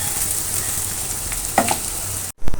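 Liver frying in a pan for a Bangladeshi liver bhuna, a steady close sizzle with a few stirring clatters before a brief cut and a louder burst of frying.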